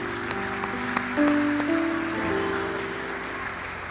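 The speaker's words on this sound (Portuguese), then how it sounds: "Vamos aplaudir o Senhor pela vida deles." Scattered clapping from a church congregation runs throughout, blended with sustained keyboard or organ tones.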